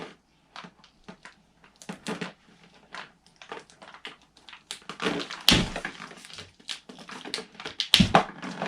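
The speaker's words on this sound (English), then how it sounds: "We're going to cut an X into the bag." A blade slices an X into the plastic bag of a Back To The Roots organic mushroom grow kit, giving a run of close, crisp snips and crackling plastic scrapes in short bursts, louder toward the end.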